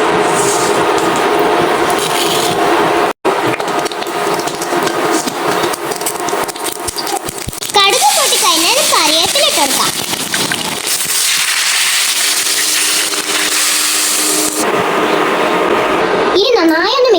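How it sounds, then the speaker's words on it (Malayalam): Mustard seeds splutter in hot coconut oil in a pan while making kadumanga mango pickle. The popping and crackling is loud, dense and continuous, with a voice briefly heard in the middle. "ചൂടായി നിൽക്കുന്ന പാനിലേക്ക് കുറച്ച് വെളിച്ചെണ്ണ ഇട്ടെടുത്തേക്കാം. സ്പൂൺ കടുക് ഇട്ടെടുക്കാം."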